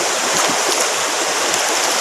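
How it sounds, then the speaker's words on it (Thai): Halved fruit being rinsed clean in water outdoors, with a steady, full rush of running water that fills the whole stretch without a break. "หลังจากที่เราผ่าออกมาแล้วเราก็จะล้างน้ำให้สะอาดนะครับ"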